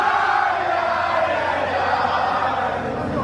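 A large wrestling event crowd at a mask-versus-mask match roars and cheers in a continuous dense wash of voices, sustained and fairly loud throughout.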